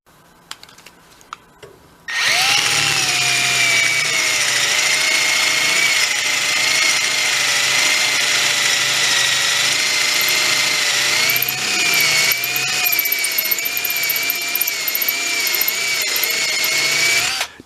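Power drill boring out a broken stud, starting abruptly after a quiet moment and then whining loud and continuous near the mic, its pitch wavering slightly as the bit is slowed and pressure varies.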